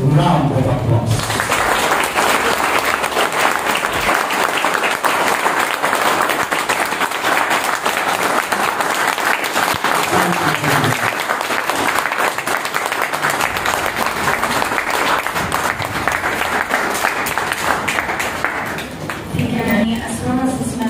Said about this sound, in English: the warmest round of applause